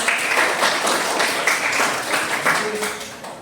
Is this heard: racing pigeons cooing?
no